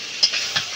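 Meat cooking in a pan, giving a steady broadband sizzle with two brief louder bursts of stirring or spattering, close and alone without voices.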